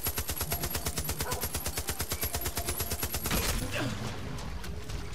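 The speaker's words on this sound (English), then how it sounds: "Let's see if we can overkill one of these bisons and produce a damaged skin." A bison is shot with a rapid automatic weapon in Far Cry 5: a dense, evenly paced burst of loud, close gunfire lasting several seconds, then cutting off into fading echoes.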